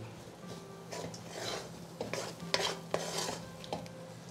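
Mango rice being stirred in a pan over a low flame, a spoon scraping and clinking against the metal in several quiet strokes, with a faint sizzle and no talking.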